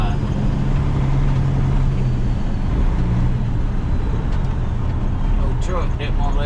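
A truck runs in road traffic among other vehicles, with a dense, continuous close engine and road rumble throughout, with no voices.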